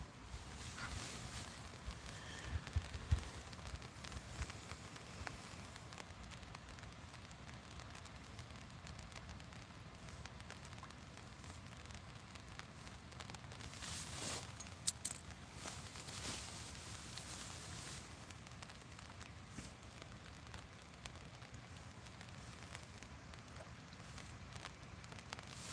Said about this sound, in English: It is calming just to sit here in the rain.